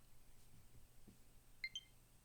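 A short run of faint electronic beeps, a quick pair of high tones around a Nintendo Switch console, in a quiet room with low background hum.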